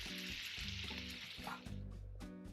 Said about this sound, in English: brown the meatballs in batches